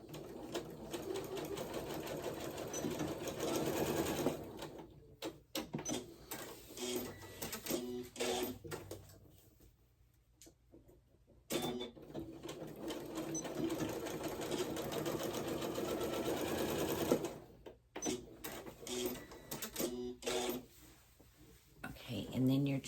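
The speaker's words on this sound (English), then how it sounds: "once you have that done, you're just going to sew up your ends." Sewing machine stitching up the ends of fabric in a dress sew-along, a quiet, rapid mechanical whir running in bursts with short pauses between runs.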